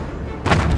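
A gunshot in Battlefield 1, a sudden loud burst that cuts in partway through and rings on with rumbling low end, set against game background noise.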